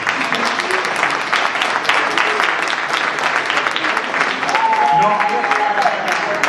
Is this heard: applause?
yes